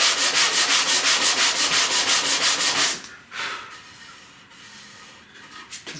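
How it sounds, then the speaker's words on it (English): Sanding the edge of a wooden router guide for a Bosch RA1054 router, rhythmic rough back-and-forth strokes for about three seconds, then quieter handling scrapes and light knocks. "we're going to sand this edge just a little bit"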